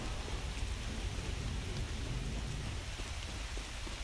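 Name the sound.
rain and thunder in a video game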